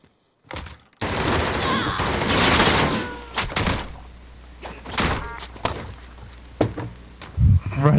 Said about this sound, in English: Why are there three guys shooting at me?